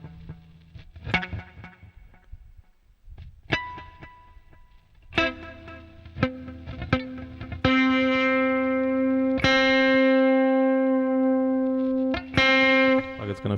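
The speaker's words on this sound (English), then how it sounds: "the biggest difficulty right now is just as soon as you pick up the guitar, is like pressing one note properly." Electric guitar with effects played by a beginner, scattered plucked notes and a poorly fretted note that rings out, some buzzy and uneven, with distorted, chorus-like coloring and reverb, played alone at moderate loudness.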